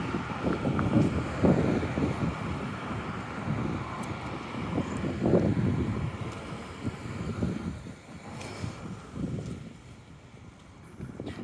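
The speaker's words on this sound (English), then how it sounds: "And we're getting a lot of wind right here." Gusty wind blows along a city street, buffeting the microphone with a rough, rumbling roar that swells and fades in uneven waves, with no one talking.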